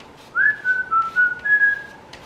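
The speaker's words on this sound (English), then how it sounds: "Whistle while you spackle." A person whistles a short wavering tune in an art studio while packing up, several quick connected notes, fairly close and clear over a low room hush.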